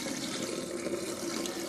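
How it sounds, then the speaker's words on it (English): Wash water poured off soaked rice and lentils for dosa batter, a steady continuous splashing rush of running water, close and unbroken with no talk. "We're going to try to drain off as much as we can of the wash water."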